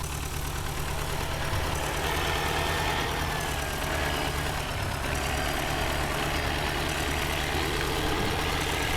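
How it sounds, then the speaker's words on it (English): Tractor engine idling steadily in Farming Simulator 2015, a continuous low rumble heard up close with no talk over it. "So we'll park this tractor up"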